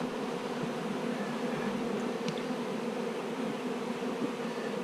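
Honey bees buzz around their hive in a steady, fairly soft hum, with a few individual insects passing close by and no talking.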